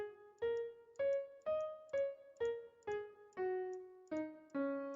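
Single piano notes stepping through a pentatonic scale, ten clear struck tones at an even pace, each ringing briefly before the next, played alone with no voices.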